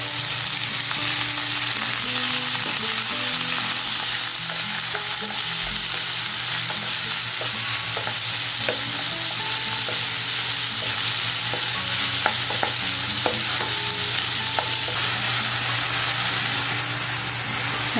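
Mixed vegetables with corn stir-fry in a hot wok or pan for Chinese fried rice, with a loud, constant sizzle and repeated scraping and tossing strokes of the spatula, close up with no talking.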